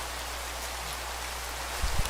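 Continuous hissing rainfall in Minecraft modded with Pixelmon, an even, fairly loud wash with a couple of brief low thumps near the end and no talking.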